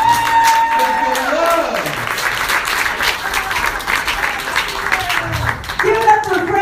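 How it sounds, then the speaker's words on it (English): A comedy show audience applauds and cheers loudly for the next comedian, with dense clapping, whoops and shouts. A host's voice calls out over the noise near the start and end. "Clap it up for Esther Steinberg"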